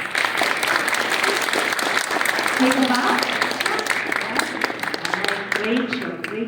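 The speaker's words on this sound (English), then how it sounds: "Let's have another round of applause." Steady, dense applause from a live audience after a classical dance number at a Sandhya Salanga Puja stage show, a voice speaking briefly over the clapping throughout.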